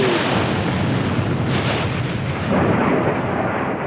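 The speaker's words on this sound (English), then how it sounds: "A thunderclap crashes through this ball like a cataclysm." A thunderclap explosion from an audio drama, a loud, sustained crashing roar that fills the whole stretch with dense rumble and swells again toward the end, with no voices.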